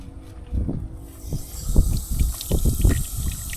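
Corm soak solution is swirled around in a bucket outdoors, giving low sloshing water pulses that come and go in an uneven rhythm, close by.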